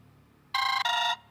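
A phone ringtone plays two short bright electronic bursts back to back, loud and close, after a moment of near silence.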